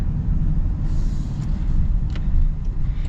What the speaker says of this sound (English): Let's set off in the new Defender